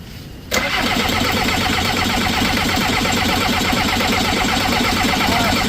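A broken-down skid loader engine with a fuel delivery fault at one injector cranks briefly and then catches, settling into a loud, steady, rough idle that runs close by and alone to the end.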